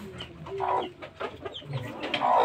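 A mother hen clucks in short, repeated bursts, fairly close and alone, with low throaty murmurs between the calls.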